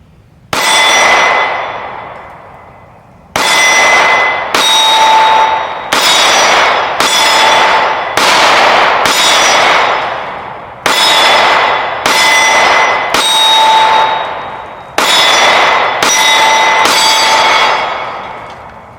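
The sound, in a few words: IWI Masada pistol shooting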